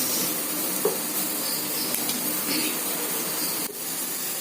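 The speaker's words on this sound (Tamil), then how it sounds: "எண்ணெயும் காஞ்சிடுச்சு. கடுகு போடுறேன்." Mustard seeds crackle in hot oil for a broccoli dish, a steady dense hiss of spluttering with a few faint pops and clicks throughout, close and continuous.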